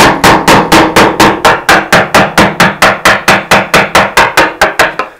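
A hammer strikes a wood chisel in steady, even blows, about twenty loud close impacts at a regular quick rhythm as the chisel cuts along a marked line in timber for a woodshed build.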